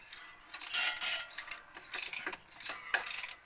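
A Mercedes M110 engine is turned over slowly by hand, and its valve mechanism answers with faint, close ratcheting clicks and soft mechanical ticks in uneven bursts.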